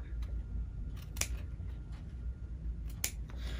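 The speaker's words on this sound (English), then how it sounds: "So I just always use a nice pair of scissors for this." A sharp pair of scissors snips through fabric, trimming small two-inch squares from the corners of a sewn fabric tray. Several crisp, close cuts stand out over a quiet room background, with two especially clear snips.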